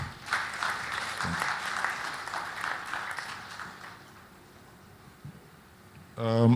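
Moderate applause rises from the audience at a panel session and then tapers off, followed by a quieter stretch and a sudden burst of louder sound near the end.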